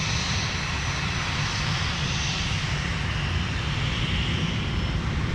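Alaska Airlines flight 527 from Seattle-Tacoma arriving at Minneapolis–Saint Paul airport on the north side, a steady broad roar of airliner engines sustained throughout, fairly loud and with no voices.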